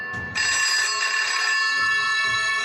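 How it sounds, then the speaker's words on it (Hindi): A home landline telephone rings with a loud, continuous bright electronic trill that starts abruptly after a short low rumble and holds steady to the end, close and alone. "सुबह पहुंच के वहां होटल में चेक इन किया ही था कि आनंद का फोन बजा।"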